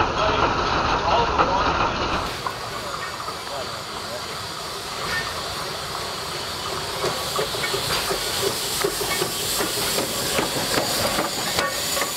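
A loud, steady hiss of air pours out for a couple of seconds as the brake is applied on Jeddo Coal locomotive No. 85, then drops to a rumbling, rattling mechanical background with scattered clanks.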